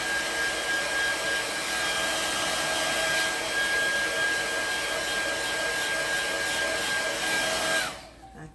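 Hair dryer blowing steadily to dry a handmade craft bag, a loud constant whirring rush that cuts off near the end.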